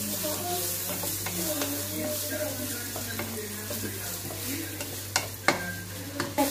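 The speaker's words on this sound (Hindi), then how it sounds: "हम इसमें डालेंगे थोड़े से कड़ी पत्ता। मैं डालूंगी प्याज और इसको हम करेंगे ब्राउन।" Onions and curry leaves frying in a pan, with a constant soft sizzle and occasional scraping stirs that grow sharper toward the end.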